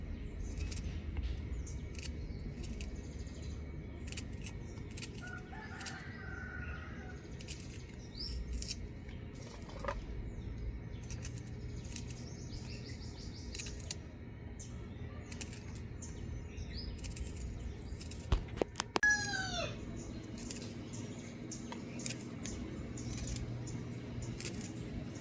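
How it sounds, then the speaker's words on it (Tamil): Onions are sliced lengthwise for a village fish curry, with irregular soft chopping clicks close by and birds chirping faintly in the background. "வெங்காயத்தையும் நீளமாக வெட்டி எடுப்பேன்."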